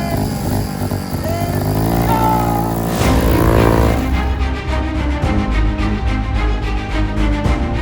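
A mini-bike and a four-wheel-drive lawnmower race side by side, their small engines droning loudly and continuously with a rising whine from one machine, no voices heard.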